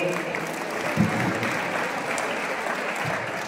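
An audience at a public felicitation event claps for Atul Sathe in steady, dense applause that holds at an even level from start to finish, with no talk over it.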